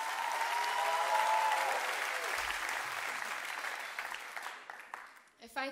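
Concert crowd at a singer's show in Hamburg applauding and cheering; a sustained tone rings over the clapping at first, and the crowd noise thins before a talking voice cuts in at the end.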